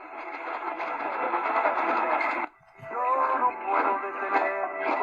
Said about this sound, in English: music here on WPTX. This is cool. Lexington Park, Maryland, 685 miles.